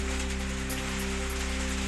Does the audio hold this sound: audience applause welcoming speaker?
no